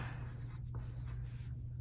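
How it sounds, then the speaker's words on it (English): Pencil scratching across paper as a name is written on the back of a sheet, a soft continuous rubbing texture with short strokes, quiet and close over a low background hum. "I'm gonna write my name on the back of the paper"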